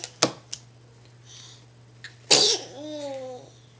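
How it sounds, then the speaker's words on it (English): A sharp explosive burst, half sneeze and half cough, follows a few small clicks in a quiet room, with a short faint squeak trailing after. "Like a half sneeze, half cough?"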